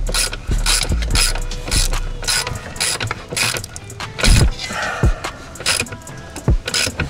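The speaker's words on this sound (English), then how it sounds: "Get this clip, loosen it up with this flathead." A flathead screwdriver works a clamp on rubber intake tubing during a cold air intake install on a Jeep Wrangler, giving close, repeated ratcheting clicks and metallic turning sounds in an uneven rhythm, with no one speaking.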